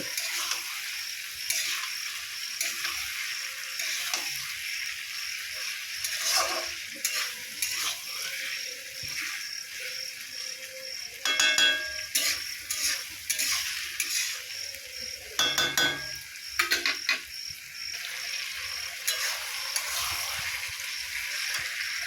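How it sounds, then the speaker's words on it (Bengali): A curry being sautéed and stirred in a pan, with a steady sizzle and repeated scraping and clinking of a utensil against the pan, louder stirring bursts recurring near and clear. "আরও কিছুক্ষণ কষিয়ে নেব"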